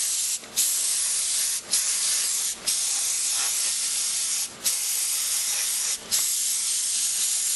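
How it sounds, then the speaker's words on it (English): An aerosol spray paint can hisses in short steady bursts as it coats a model tank miniature, five or six close sprays separated by brief pauses, no talking. "So alright, so I'm starting to spray the tank."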